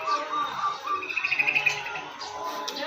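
Pigeons or doves call on a street, with soft, repeated chirping and cooing notes fairly close, over faint background noise.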